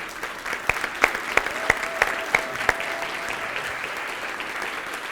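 An audience at a talk gives a small, sparse round of clapping for Vietnam veterans. About seven sharp, separate claps land at an even pace over a quiet room hum with a faint steady tone, then stop.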